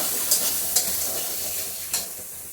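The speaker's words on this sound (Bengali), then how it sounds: "পুরটাকে একটু কষিয়ে তারপর পটলের মধ্যে ঢুকাবো।" Cashew and turmeric stuffing for pointed gourd sautés in a pan over lowered heat, giving a steady close sizzle with a few sharp scrapes of stirring.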